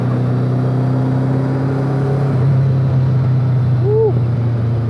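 An MK Indy car fitted with a Kawasaki ZZ-R1200 motorcycle engine drones steadily up close, swelling slightly as it revs, with a brief squeal near the end.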